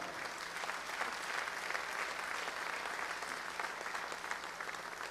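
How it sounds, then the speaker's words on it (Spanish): A church congregation applauds the teachers during a Spanish-language service, a dense, steady wash of clapping that holds evenly throughout, soft and somewhat distant. "yo quisiera darle también un aplauso a los maestros"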